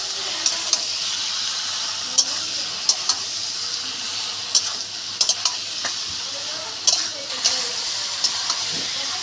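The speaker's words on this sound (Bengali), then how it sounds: "কিছুক্ষণ নাড়াবো" Jackfruit, potato and prawns being stirred with spices in a hot pan, a steady sizzle with scattered scraping clicks of the spatula, close and continuous.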